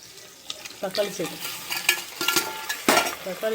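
Biryani ingredients sautéing in a pan, a steady frying sizzle with repeated stirring scrapes and clinks of a utensil against the metal, close and fairly loud with no talk.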